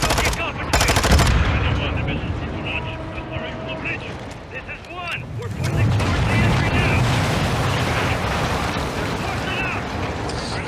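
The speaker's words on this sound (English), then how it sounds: "I'm sniping this dude in his forehead with three bullets." Heavy gunfire in a Modern Warfare 2 campaign mission set on dark water, with loud bursts of shots up front, then a dense, rumbling din of battle and explosions that carries on steadily.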